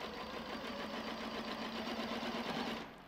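A sewing machine fitted with a walking foot stitches a maxi dress seam along its length, a steady close mechanical whir with rapid rhythmic needle pulses that runs continuously and stops just before the end.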